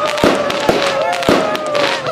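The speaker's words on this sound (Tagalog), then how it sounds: "Fireworks!" Fireworks burst outdoors in San Fabian, several sharp, loud explosions popping at irregular intervals, with a faint whistling tone and background voices between the bangs.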